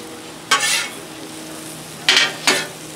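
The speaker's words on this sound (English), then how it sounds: "I will be turning and stirring this a lot" Okra coated in flour frying on a Blackstone griddle under a constant close sizzle, broken by three brief scraping strokes of a spatula turning and stirring it.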